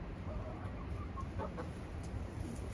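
Hens in a backyard chicken coop cluck softly in short, scattered calls over a steady background hum, with no one speaking.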